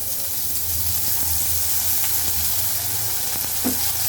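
Small onions sautéing in oil for crab curry give a steady, close sizzle and crackle with faint stirring and no voices.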